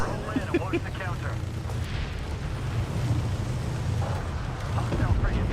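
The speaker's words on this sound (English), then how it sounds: "Interceptor cannon sounds." Interceptor cannon fire in the space strategy game Homeworld 3, heard as a steady rumbling barrage with short bursts, low and continuous, under a radio-style voice.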